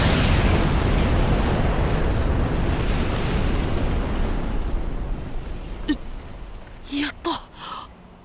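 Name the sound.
bomb explosion in the video game World's End Club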